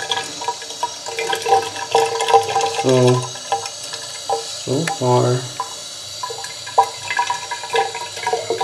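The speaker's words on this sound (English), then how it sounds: "I'm going to keep pouring more water" Warm water is poured in splashing bursts into a small homemade toilet, a few gurgling, swirling pours separated by handling noises, with someone speaking briefly.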